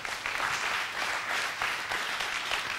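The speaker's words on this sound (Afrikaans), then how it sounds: "Gee my hande klap." Dense applause from a church congregation clapping their hands, steady and sustained throughout, with a roomy mid-distance wash and no clear individual claps standing out.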